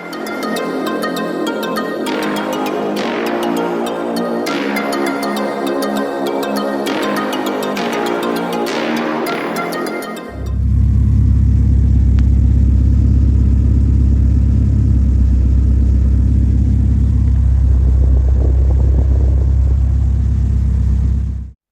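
A Saab 9-5 Aero with an oil pressure problem is being driven, giving a steady loud engine drone and low rumble. Music-like tonal sound fills the first half before the engine note takes over.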